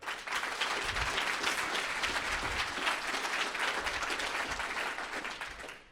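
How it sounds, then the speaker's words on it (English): A conference audience at the Guns N Bitcoin event breaks into loud, dense applause, many hands clapping together in a sustained roar that fills the room for several seconds before cutting off. "Double the volume on that clap that y'all just did."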